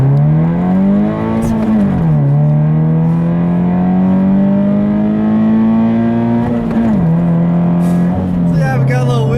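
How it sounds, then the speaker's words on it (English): A car accelerates hard on snow tires over wet, recently rained-on roads, its wheels spinning. Loud, close, steady engine drone climbs and dips through gear changes across the run. "we got a little wheel spin there because as you know, like I said, it rained recently, and so the roads are a little wet"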